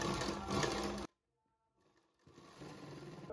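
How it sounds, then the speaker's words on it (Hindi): A sewing machine runs a fast, even stitch through kurti fabric pieces for about a second, stops for a short quiet spell, then starts again and keeps whirring close by. "पक्की सिलाई लगा के हमने इसको स्टिच कर दिया है।"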